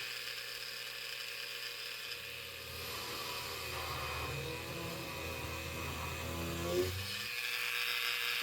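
A drill with an oversized bit whines steadily at close range, its pitch dropping as it bites through resin and into wood before stopping abruptly near the end.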